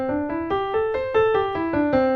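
A five-note pentatonic scale plays on a keyboard, nine or so clean, evenly spaced notes stepping up and back down at a brisk, even pace, close and clear with nothing else heard.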